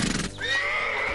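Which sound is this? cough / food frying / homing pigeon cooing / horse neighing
horse neighing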